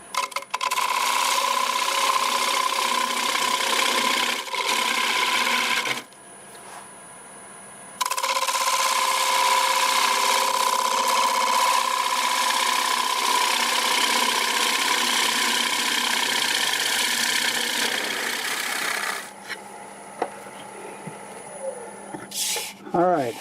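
A wood lathe turns a light catalpa bowl at about 900 RPM, giving a steady, loud mechanical hum with a strong tonal whine that drops out briefly and returns, and eases off near the end.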